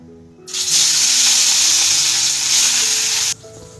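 Fish dropped into hot oil in a home kitchen bursts into a loud, close, steady hiss and sizzle that holds for about three seconds and then stops abruptly, with faint background voices.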